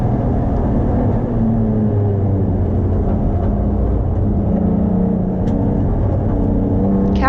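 A race car slides through a slippery corner on the Taupo circuit, its engine a loud, steady drone that holds close throughout with a brief rising whine near the end.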